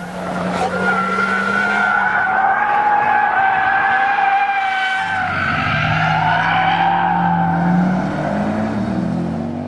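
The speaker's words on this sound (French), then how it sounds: "La Mitsubishi Lancer Evolution 10 est ce qui se rapproche le plus d'une voiture de rallye homologuée." A Mitsubishi Lancer Evolution X driven hard like a rally car roars loudly and continuously up close, its engine pitch rising and shifting while the tyres squeal and skid.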